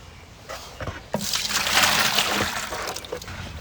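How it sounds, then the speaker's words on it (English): Water poured into a bucket to mix thin-set mortar for a fire pit repair, a rushing, splashing pour that swells after a few light sloshes, then tapers off, close and fairly loud. "add the water first"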